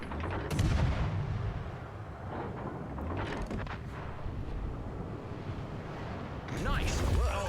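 Warship guns firing in the World of Warships Legends naval game during an anti-aircraft-focused match, booming heavy salvos layered with dense battle rumble and explosions, with a voice talking over the steady barrage.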